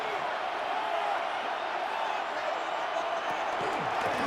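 Stadium crowd roaring steadily in Madden 26 during a Carolina Panthers at San Francisco 49ers Monday Night Football game, a dense, continuous wash of cheering with a few brief sharp accents near the end.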